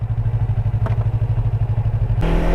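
A Yamaha R25 motorcycle carries its rider along on a night ride in Balıkesir, its engine giving a steady, loud, rapid pulsing throb up close, with a brief surge in pitch and roughness near the end.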